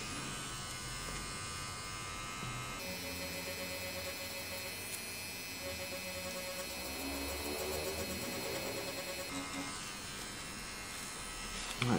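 Steady electric buzz of a DragonHawk Mast Archer wireless tattoo machine running, a continuous close whine with a brief change in pitch partway through, no voices.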